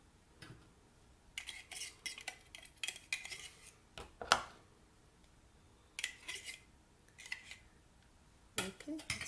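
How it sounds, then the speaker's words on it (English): Garlic scraped against a small kitchen grater, a series of short, faint rasping strokes in bursts with quiet gaps between them, close by, with someone speaking in between. "so I have my little grater here that helps me for doing the garlic"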